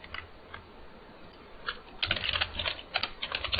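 Fingers type on a computer keyboard, with quiet scattered keystrokes at first, then faster, louder clusters of clicks close to the microphone.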